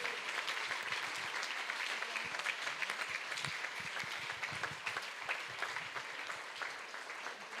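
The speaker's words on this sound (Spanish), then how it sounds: "No sé si no le aplaudimos al Señor Jesucristo." A church congregation applauds during a service, a dense, continuous roll of many hands clapping at moderate volume from start to finish.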